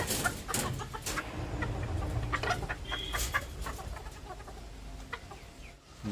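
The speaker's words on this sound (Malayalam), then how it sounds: "ഇതിന് നാടൻ കോഴിയാണ് ഉള്ളത്" Native country hens clucking steadily in a farm coop, several birds close by with overlapping short calls and occasional louder squawks, no talking.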